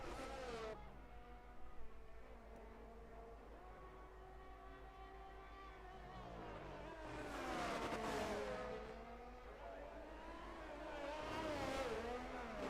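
A Haas race car with a Ferrari-powered engine drones at a distance, its pitch slowly rising and falling as it runs at speed, with the engine note swelling louder toward the end.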